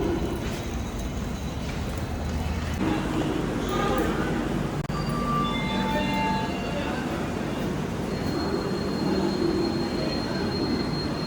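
Bangalore railway station platform ambience with a steady rumble, scattered metallic squeals and faint tones, while indistinct voices murmur in the background throughout.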